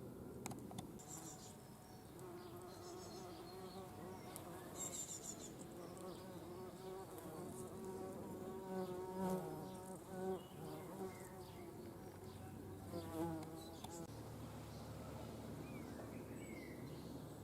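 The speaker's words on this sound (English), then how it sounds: "She's deliberately buzzing herself, buzzing her flight muscles to shake the pollen off the flower so that she can collect it." A bee buzz-pollinating a flower in a May garden, a sustained, droning buzz that rises and pulses in intensity over a quiet outdoor background, fairly close and continuous.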